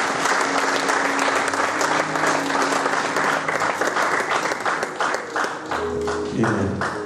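A church congregation bursts into sustained applause, dense and steady for several seconds before thinning into scattered individual claps at the end.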